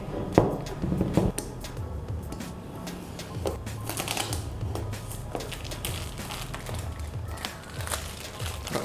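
Plastic wrap is peeled and torn off a Redmi Note 10S phone box, making close, crinkly crackles and sharp little ticks in a steady, busy stream with no voice over them.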